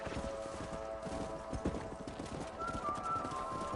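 Rapid, steady clip-clop of galloping horse hooves in Red Dead Redemption on PS4, under a constant background hum and music-like tones, the pounding rhythm continuing throughout.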